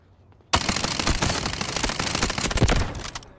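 A sudden loud burst of rapid automatic Uzi fire in the Delta Force Mobile shooter game sets in after a quiet moment and rattles on continuously for about three seconds.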